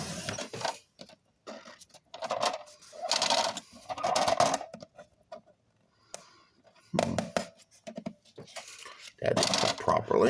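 A paper trimmer or cutter works through paper for a mini album, with close bursts of rasping, sliding cuts and clicks separated by short pauses, some strokes longer and some quick.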